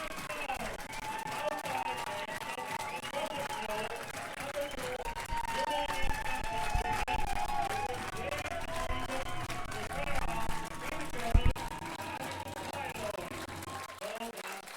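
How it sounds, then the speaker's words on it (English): A football crowd at a Sweden vs Norway under-19 game roars continuously after a touchdown, a dense wash of cheering and clapping heard from a distance, with a commentator talking over it throughout. "The crowd is going crazy"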